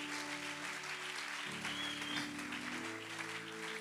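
A church congregation applauds for Jesus, a steady room-filling round of clapping with a sustained tonal hum beneath it.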